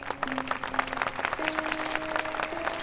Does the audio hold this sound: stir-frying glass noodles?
no